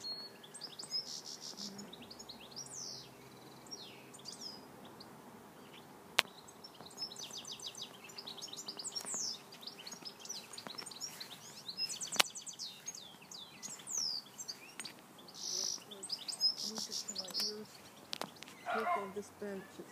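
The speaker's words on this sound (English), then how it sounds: "There's some of the birds over there now." Birds chirp outdoors in the evening at a country manor, bright scattered calls repeating through the scene alongside steady insect chirring, with people talking now and then.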